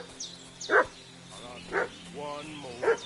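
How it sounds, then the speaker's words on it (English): A dog barks about three times in separate loud bursts, spaced roughly a second apart, over a low background hum with faint murmuring. "What's that dog making such a fuss about?"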